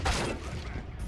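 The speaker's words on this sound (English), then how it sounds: "Throwing the flashbang." Flashbang grenade going off in a tactical shooter game, a loud burst at the start that fades into a sustained ringing wash lasting about a second.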